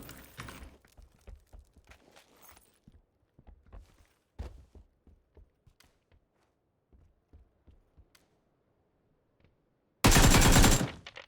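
Gunfire in PUBG, with scattered single shots and short bursts of varying distance and loudness between quiet gaps, ending in a loud, close sustained automatic burst.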